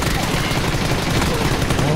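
Gunfire in the video game PUBG, a dense, loud, unbroken burst of rapid shots filling the whole moment with sustained noisy crackle.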